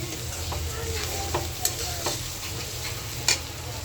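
Cabbage being stir-fried in a pan for a simple home-cooked meal: a steady low sizzle with a few sharp scrapes and clinks of a spatula against the metal, close and alone with no talk.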